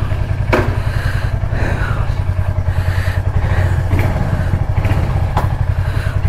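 A stock Indian motorcycle with no modifications idles nearby, its engine keeping a steady, loud, even thump and putter with a few light clicks on top.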